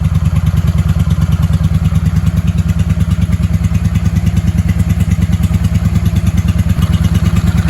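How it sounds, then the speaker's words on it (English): A 1995 Honda Shadow VLX 600 engine runs on the fuel left in its carburetor, giving a loud, close, steady idle of rapid, even thumping pulses with a clattery edge, with no voices. "It shows you how long it can run on the carburetor being full of fuel."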